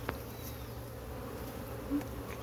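A steady, dense buzzing of many Africanized honey bees from a wild colony fills the air, a continuous close drone with no voices.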